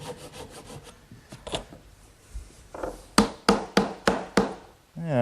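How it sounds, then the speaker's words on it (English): A hand saw trims a wooden dovetail joint on a Shaker wash stand, opening with soft uneven rubbing and then settling into five or six sharp, evenly spaced strokes, close and alone. "I'm just going to take my saw and run it between the joint to trim a little bit off"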